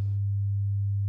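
A pure 100 Hz sine wave test tone holds steady and unchanging, loud and alone, after a brief burst of noise at the start.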